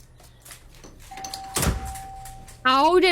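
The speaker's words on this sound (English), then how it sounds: "how was the doorbell going off on its own?" Electronic doorbell going off on its own, a sustained tone followed by a louder chime near the end, heard under people talking.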